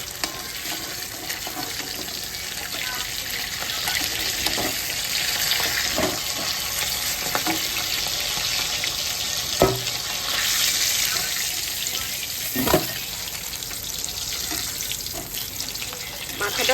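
Fish fries in oil in a wok with a steady, loud sizzle throughout, broken by a few sharp scraping clinks as the pan is adjusted, close up and with no talk.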